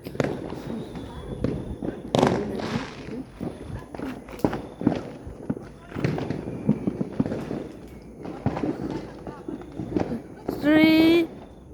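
Outdoor New Year fireworks pop and crack in scattered bursts amid crowd chatter and movement, with a whistling rocket rising near the end.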